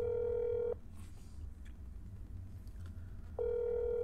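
A telephone in the horror video game That's Not my Neighbor emits a steady tone that cuts off during a quiet gap of faint clicks, then resumes.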